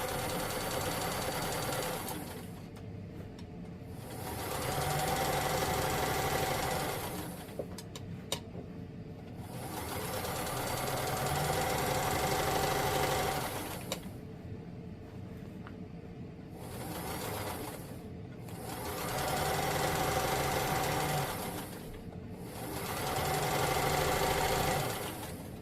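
A sewing machine runs in several sustained bursts of stitching through fabric while sewing a New Look 6603 pattern, separated by short pauses, with a steady mechanical whir at close range and no talking.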